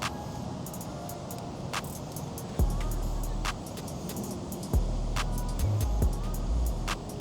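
An MJX H18P Bronco RC crawler driving at low throttle, a faint electric motor whine that rises in a couple of short low pulses over steady outdoor background noise with scattered clicks.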